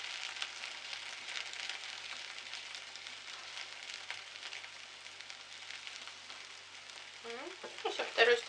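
Pancake batter fries in a pan with a soft, continuous sizzle and crackle, close by but quiet, with a brief voice rising near the end.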